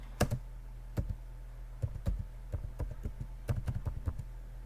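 Quick bursts of keystrokes on a computer keyboard, typed in irregular clusters with short pauses, close and clear over a faint steady hum, no voices.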